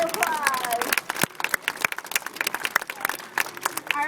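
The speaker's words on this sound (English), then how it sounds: "Give her a big round of applause." A crowd at a marine park sea lion show claps in scattered, uneven bursts, with a few loud close claps over a thinner background patter and voices talking over it.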